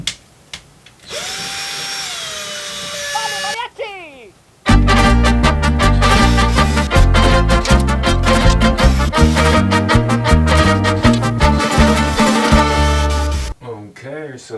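A power drill bores into fresh wood, loud and close, in a long continuous run of grinding, rattling whir with uneven pulses, preceded by a brief lighter high-pitched tool whine and some handling noise.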